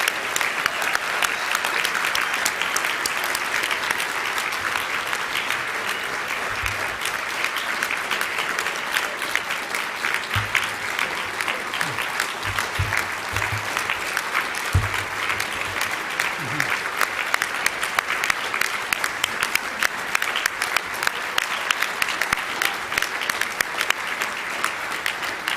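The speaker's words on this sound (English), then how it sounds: "a round of applause for all of the award winners" An audience at an alumni awards dinner ceremony breaks into sustained, dense applause for the award winners, steady and loud throughout with no talking over it.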